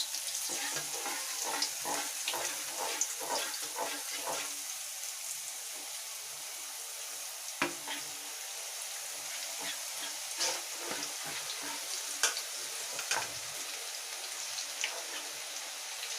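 Boondi batter for laddu frying in hot oil, a dense, steady crackling sizzle like heavy rain that runs without a break, with occasional sharper pops and ladle scrapes, close up and with no talking.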